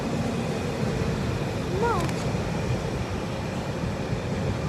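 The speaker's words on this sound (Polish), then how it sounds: "I wjeżdża pociąg towarowy." Freight train arriving at a station in Poland, a low continuous rumble of wagons rolling in, with a short horn-like tonal call partway through and a voice talking over the noise.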